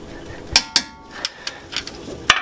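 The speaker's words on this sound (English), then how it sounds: "And now we're just torquing everything" Metal tools clank sharply on brake caliper and rotor hardware while the bolts are torqued during a brake installation, giving several distinct close clinks and knocks spaced unevenly over a quiet background.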